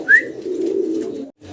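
A Chinese breed pigeon cooing up close, a short rising note followed by a steady low rolling coo, then a brief pause and another low coo beginning.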